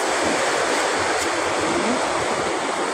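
The strong current of the Madlum river rushes in a dense, constant roar, loud and close, with no pauses.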